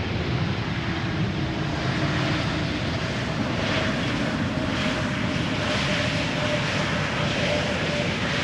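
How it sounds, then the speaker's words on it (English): ITA Airbus A320neo jet arriving at Amsterdam Schiphol, a loud, steady engine roar with a broad whooshing hiss that holds at close range throughout, with no voices over it. "First up ITA A320neo arriving from Milan."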